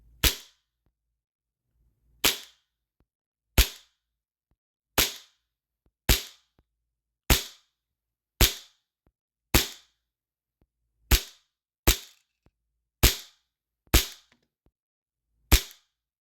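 Hi-capa airsoft pistol firing 0.20 g BBs on green gas, a series of about thirteen sharp, snappy pops spaced one to two seconds apart, close and crisp against near silence, no talking.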